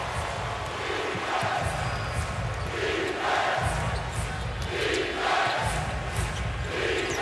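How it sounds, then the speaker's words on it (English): Fired-up basketball arena crowd at a Miami Heat versus Boston playoff game, cheering and roaring in repeated surging swells, with sneaker squeaks and bouncing balls in a large, echoing hall. "this crowd from about a half hour before tip is so fired up"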